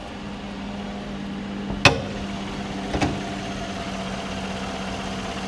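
The 5.3 liter V8 of a 2014 Chevy Silverado 1500 idling steadily with a low, even hum, joined by two faint clicks partway through and no talking.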